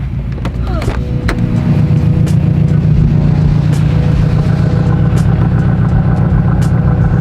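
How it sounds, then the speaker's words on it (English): A 2016 Subaru STI with a fault that leaves it barely running, its engine loud and close with a rough, uneven idle after a brief revving start, a continuous low drone with no speech over it. "Here's the problem with this car, as you guys can hear, it doesn't really run."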